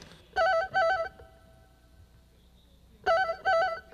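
A voice imitates a home landline telephone ringing unanswered: two trilling double rings separated by a pause, clear and close.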